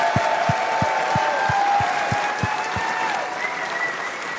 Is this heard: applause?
yes